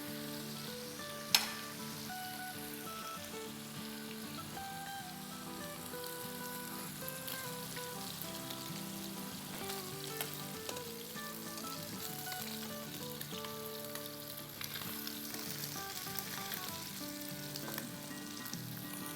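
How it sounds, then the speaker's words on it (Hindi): Fish fries in a pan for machi bhaat, a steady, close crackling sizzle with scattered pops that runs unbroken throughout. "देखिए फिश कितनी खूबसूरती से फ्राई हो रही है।"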